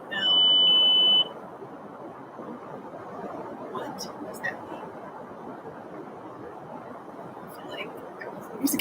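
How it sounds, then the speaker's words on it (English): A single sustained electronic beep at a steady high pitch sounds for about a second at the start, loud against a faint room background, then stops. "What the heck was that beep?"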